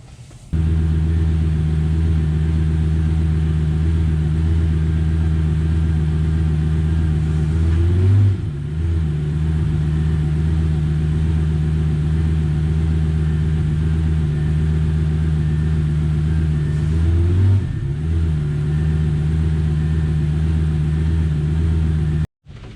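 A Lamborghini Gallardo engine idles steadily and loudly at close range, a constant low hum with two brief dips and swells as the wheels are turned during a power steering fluid change.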